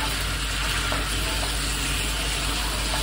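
Pork rib sauce with grated garlic reducing hard over high heat, bubbling and sizzling steadily and fairly close, with faint stirring and no voices.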